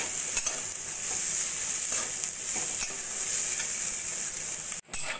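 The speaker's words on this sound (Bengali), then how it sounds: "পাতলা পাতলা করে কেটে নেওয়া পেঁয়াজটা উচ্ছের সঙ্গে ভালো করে ভেজে নেব।" Thinly sliced onion fries with bitter gourd in a pan, a steady bright sizzle with occasional stirring scrapes and a brief break near the end.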